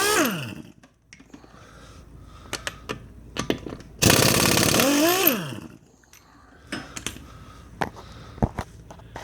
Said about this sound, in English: we're just working on getting our lugs off here